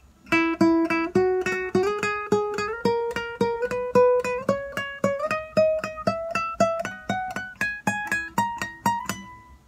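A guitar plays a melodic phrase in steady triplet picking, its plucked notes climbing gradually up the neck, clear and alone.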